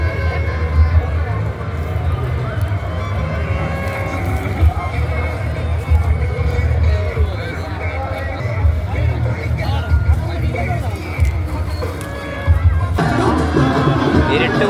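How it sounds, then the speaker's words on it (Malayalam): A large crowd gathers at a Kerala boat race in Mannar, a loud, continuous hubbub of many voices mingling nearby, with the babble growing brighter toward the end. "നല്ല ജനക്കൂട്ടം."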